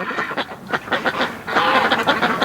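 Ducks raised on a backyard pond near a lake call in a rapid series of nasal quacks and honks, close and fairly loud, overlapping into a steady flock chatter.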